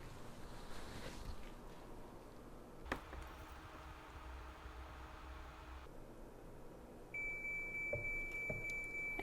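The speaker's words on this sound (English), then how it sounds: "And there are the 3 beeps. So that means that it has enough water in it." A Hava R01 compact countertop dishwasher gives a short series of three electronic beeps near the end, signaling its water tank is full, after a faint clunk and some quiet handling noise.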